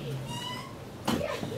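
A cat meows in a small boat cabin bedroom, a brief rising and falling cry followed by a second, louder call near the end, heard close and alone.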